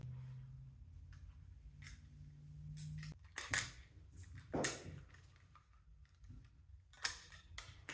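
Scissors snip rubber off an auction item in a few sharp, close cuts, with scattered clicks and handling noises between them in a quiet room.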